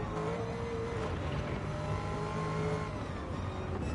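Race car engine at a live motorsport round, held at steady high revs with a dense, continuous drone throughout, no voices over it.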